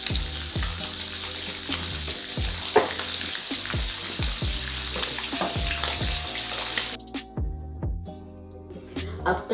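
An egg fries in a frying pan with a steady, close hiss and crackle, spatula scrapes and clanks recurring throughout, and the sizzle cuts off abruptly near the end, leaving quieter clatter.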